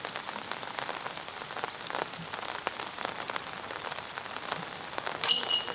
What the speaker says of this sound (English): so started to rain a little bit now